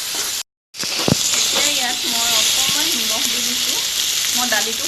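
Chopped onion, tomato, capsicum and other vegetables fry in a hot pan with a loud steady sizzle and hiss, broken by a brief silent gap and a clink, while a voice speaks over it.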